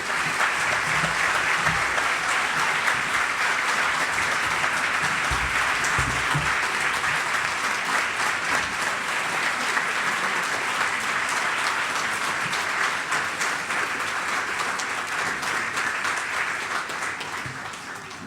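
Sustained, dense applause fills a large room for the inductees at the St. Louis Media History Hall of Fame induction ceremony, holding steady throughout and tapering slightly at the very end.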